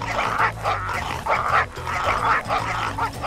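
African wild dogs fighting in a video game, loud yelping, barking and snarling in rapid repeated bursts, close and continuous.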